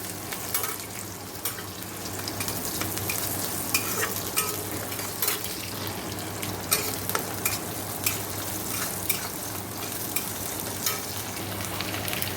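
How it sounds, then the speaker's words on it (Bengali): Onion and green chili fry in white oil tempered with nigella seeds and dried red chili, a steady close sizzle with frequent scraping stir strokes of a spoon against the pan throughout, and no voices. "কালো জিরে, সাদা তেল দিয়ে কালো জিরে, শুকনো লঙ্কা ফোড়ন দিয়ে পেঁয়াজ লঙ্কাটা ঢেলে দিলাম।"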